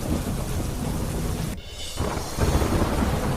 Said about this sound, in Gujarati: ઝારખંડના રામગઢમાં કાળા ડિબાંગ વાદળો વચ્ચે શરૂ થયો વરસાદ.